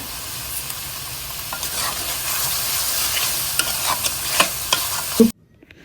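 Potatoes and cauliflower fry in hot oil with salt and spices, a loud, dense sizzle and crackle heard close up with scattered stirring clicks, stopping abruptly at the end.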